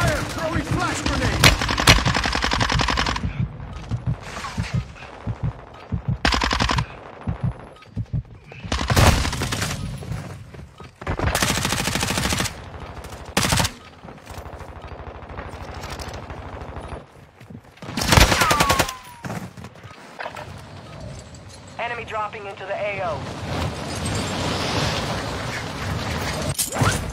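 Video game firefight with rapid bursts of automatic gunfire, single shots and grenade blasts, loud and close in clustered volleys broken by brief lulls, with mechanical clicks between.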